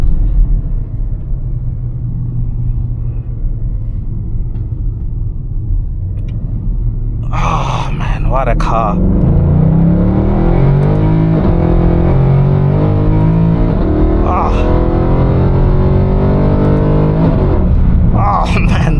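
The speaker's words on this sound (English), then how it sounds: "those gear shifts are actually very brutal. It's actually easy to hit the rev limiter." A Mercedes-Benz C63 AMG W204 with its 460 hp V8 and 7-speed AMG Speedshift gearbox roars loudly as it accelerates and shifts hard, a continuous engine rumble that climbs with rising pitch. A driver talks excitedly over it throughout.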